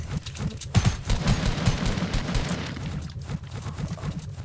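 Rapid automatic gunfire from a video game, dense bursts of repeated shots close and loud through the whole stretch, no talking.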